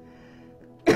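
A single sharp cough bursts out near the end, loud and close, after a stretch of quiet low background hum.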